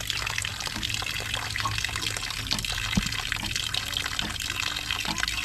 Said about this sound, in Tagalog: Pero yung daloy ng tubig niya dito mas malaki.